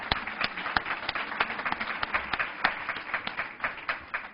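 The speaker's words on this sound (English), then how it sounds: "Let's give him another round of applause" Scattered applause at a legislative conference luncheon, with individual sharp claps standing out distinctly in an uneven rhythm, suggesting a modest crowd clapping fairly close by.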